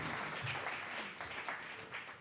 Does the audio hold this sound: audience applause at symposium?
yes